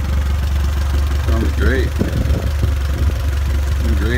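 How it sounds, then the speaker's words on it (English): A turbocharged Mazda Protege engine idles steadily with a low, continuous rumble throughout, while people talk over it. "Idling real smooth, you know, everything like that."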